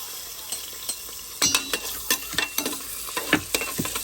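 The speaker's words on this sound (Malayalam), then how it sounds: "നമുക്ക് ഈ ഒരു ഇൻഗ്രീഡിയൻസ് ഇട്ട് ഒന്ന് വഴട്ടിയെടുക്കണം" Crushed ginger and garlic paste sautéing in a pan for Kerala-style kappa and beef curry, with steady close sizzling broken by repeated scraping and stirring strokes of a spoon, no voices.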